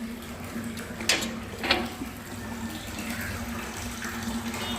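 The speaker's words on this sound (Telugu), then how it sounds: "భగీరథ వాటర్ వచ్చిందనమాట ఇంకా ట్యాంక్లో పడుతున్నాయి" Bhagiratha supply water trickles into a storage tank at low pressure. The flow is a faint, steady hiss over a low hum, with two brief knocks early on and no voices.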